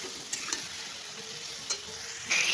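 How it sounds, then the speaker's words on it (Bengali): Chili, garlic and onion pastes with turmeric fry in a pan under a steady, bright sizzle, with occasional scraping stirs and a louder hiss flaring at the end. "ভালো করে নাড়াচাড়া করবো।"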